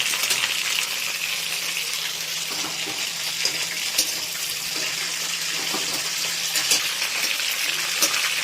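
Cauliflower florets fry in hot oil with only salt over a high flame, a steady dense sizzle and crackle that runs unbroken throughout, with a few faint clinks of a utensil stirring the pan.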